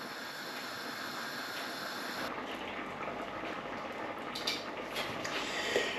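Marmitako, a Basque fish stew of tuna and potatoes, simmers in a lidded pot with a steady, soft bubbling hiss that runs on without a break.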